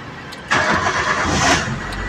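Mitsubishi Lancer engine cranks briefly and catches, then settles into a steady idle, heard close after a quiet start.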